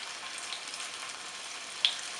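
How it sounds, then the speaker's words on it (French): Spring rolls (nems) frying in hot oil, a steady soft sizzle running throughout with one brief sharper crackle near the end, quiet and alone without talk. "nous allons faire frire quelques nems qu'on va couper ensuite en deux pour mettre dans la préparation"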